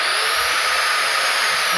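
An angle grinder spins continuously at high speed, around 1200 rpm, giving a loud, steady, close whine with a broad hiss and no pauses.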